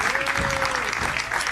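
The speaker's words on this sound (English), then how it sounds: "Let's give her a round of applause." Steady, dense applause fills a hall at a property networking event in Soweto as a speaker is called to the stage, with a faint tone and crowd murmur beneath.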